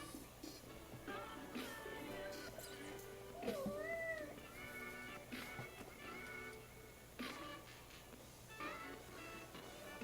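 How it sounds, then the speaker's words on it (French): A pet cat meows a few times close by, the calls rising and falling over a steady background hum with faint room noise. "vous devriez bientôt voir mon chat. Il est juste à côté de moi en ce moment"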